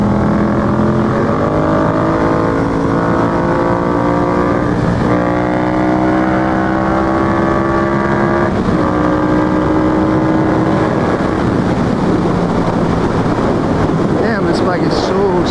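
A Yamaha FZ-07 motorcycle ridden on the road, its engine droning loud and close with rising and falling pitch as gears shift, buffeted by heavy wind noise, with voices talking over it.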